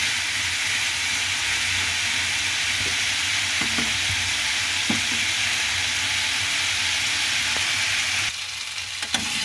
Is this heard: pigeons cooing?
no